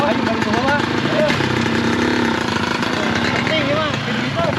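A motorcycle engine runs steadily nearby in a rural farming setting, a continuous low mechanical drone throughout while people talk over it.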